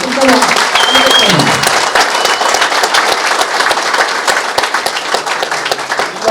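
Loud, dense applause from an audience at an Ethiopian tribute event, steady sustained clapping filling the whole stretch with crowd noise, briefly overlapping a speaking voice at the start.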